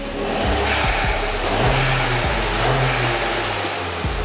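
An Audi A3 1.4 turbo engine revs repeatedly up close, and the dump valve lets out loud whooshing releases of air between the rises of the engine note.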